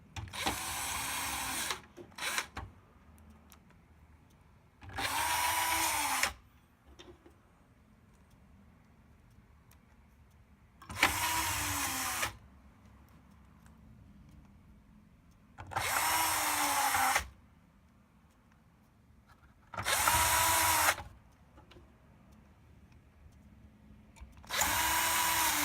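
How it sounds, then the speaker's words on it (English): A power driver spins Torx T10 screws into a TiVo Series3 power supply in short bursts of whirring, six separate runs of a few seconds each with quiet gaps between, close and fairly loud. "Then you're going to put those 6 silver Torx T10 screws back in."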